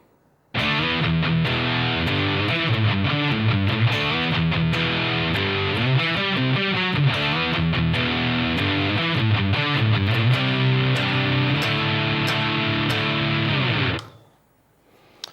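A heavily distorted electric guitar chugs through a power chord riff for about thirteen seconds, loud and sustained, then cuts off into silence.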